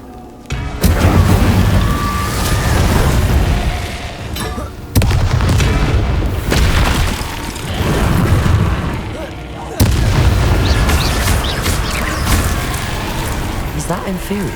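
Booming Incendio fire-spell blasts in Hogwarts Legacy, three loud bursts spaced several seconds apart, each trailing into rumbling battle noise.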